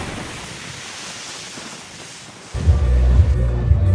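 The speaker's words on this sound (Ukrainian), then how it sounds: "Тут океан." Broad rushing Atlantic ocean waves with wind on the coast of Portugal, a steady wash that suddenly grows louder and closer partway through.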